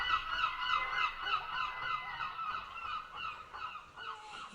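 An eagle call sound effect in a told folk story, a continuous run of loud, honking, throaty cries repeated rapidly for several seconds, with no speech over it.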